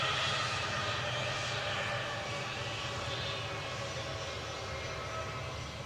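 A British Airways Airbus A320 departs Newcastle airport on a bright September afternoon, its engines a steady, moderately distant roar that holds evenly throughout, with no voices over it.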